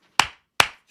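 Two sharp, close claps about half a second apart, each a crisp loud crack with a short decay in an otherwise quiet space.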